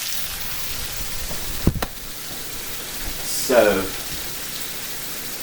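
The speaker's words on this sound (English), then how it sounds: "the peppers and onions rolling, along with our pork chop" Peppers, onions and a pork chop sizzle steadily in a pan, a soft continuous hiss with a brief louder crackle, while someone speaks briefly.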